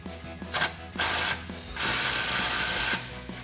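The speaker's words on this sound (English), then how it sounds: "now we can tighten up our hanger bracket, again with our 15mm socket" A ratchet with a 15mm socket tightening an exhaust hanger bracket on a Ford F-150, close rapid bursts of clicking pawl, the longest in the middle, with short pauses between.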